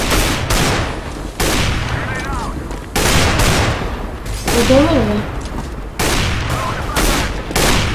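Bursts of rapid gunfire in Counter-Strike: Global Offensive, loud and repeated, with brief pauses between volleys while someone speaks Danish over the shooting.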